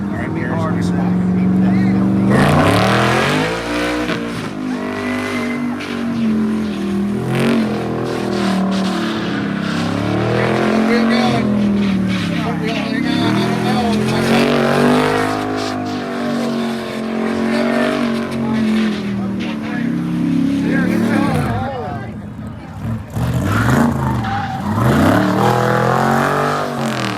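1963 Pontiac Grand Prix on fifteen-year-old tires at a drag event, engine roaring loud and close through repeated surges and revs with tire noise, voices talking and shouting throughout.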